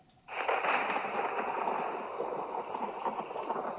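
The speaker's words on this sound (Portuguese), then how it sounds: "nós conseguimos aqui, ó, o barulho do trovão" A downloaded thunder sound effect bursts in after a brief quiet and settles into a loud, sustained rumbling roar with crackling texture, slowly easing off toward the end.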